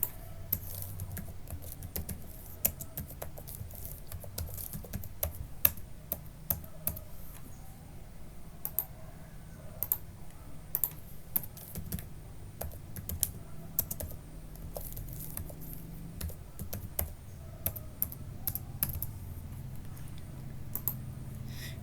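Commands being typed on a computer keyboard while configuring network switches, a steady run of quick, soft key clicks with occasional heavier taps, close to the microphone with no talking.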